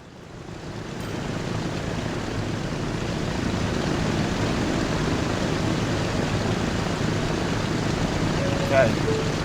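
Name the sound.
propeller plane in video game Transport Fever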